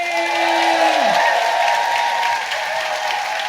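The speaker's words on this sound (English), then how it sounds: "please give a massive round of applause" A live podcast audience claps and cheers for a comedian guest, a full, steady round of applause with a sustained musical tone fading out early beneath it.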